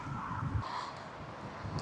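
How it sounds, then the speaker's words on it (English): Continuous low roar of traffic on the M9 motorway in Scotland, heard in the distance, a steady broadband rumble with faint wind noise and an occasional bird call. "all that noise you can hear is the M9 motorway"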